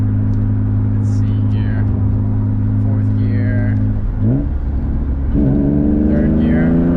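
A BMW E36 M3 engine pulls hard under acceleration while driving, a loud steady drone that rises in pitch through the gears, with a brief shift dip near the end; a voice speaks over it at times.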